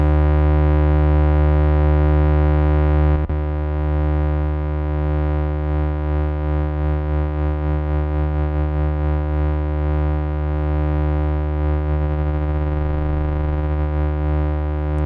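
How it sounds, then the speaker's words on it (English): A Behringer 2600 synthesizer's VCO1 square wave, modulated by feeding a signal back into its square output, gives a steady, loud, harmonically rich buzzing tone with a slight wobble and a small shift in timbre a few seconds in. "you can plug signals into the square output and it'll modulate the square."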